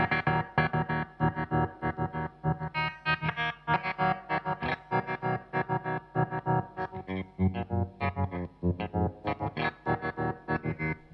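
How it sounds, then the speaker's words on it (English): Electric guitar run through a Boss SL-20 Slicer pedal with distortion, chopped into fast rhythmic pulses with sharp attacks, loud and steady throughout with no talking. "Now attack is how softly or how hard it's slicing."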